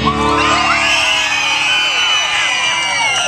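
A talent show audience screams and cheers loudly and continuously, a dense wall of whoops and yells sustained throughout.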